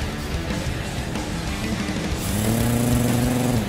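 A video game demo plays a harsh, continuous mechanical sawing buzz as something is cut in two, steady and loud, with a rising whining tone joining in over the last second.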